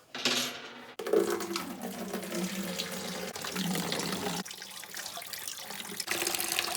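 Hand-washing water splashes and trickles steadily from a DIY sink draining into a toilet tank for several seconds, close by, with a few clunks and shifts in flow.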